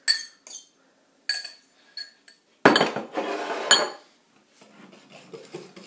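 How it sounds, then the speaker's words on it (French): A utensil stirring apple tart mixture in a bowl gives scattered bright clinks and scrapes against the bowl, then a louder, longer burst of mixing, close up with pauses between strokes. "Donc on mélange encore."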